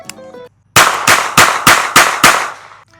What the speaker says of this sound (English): So I was firing with one hand